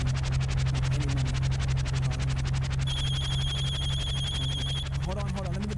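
A telephone ringtone sounds as a rapid repeating electronic pulse over a loud steady hum, with a sustained tone in the middle and brief speech at the end.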